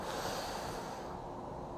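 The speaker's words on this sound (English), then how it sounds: "we're going to take 6 breaths in and out through the nose" A slow, steady inhalation through the nose during a seated breathing stretch, a soft airy rush that is close but faint and fades toward the end.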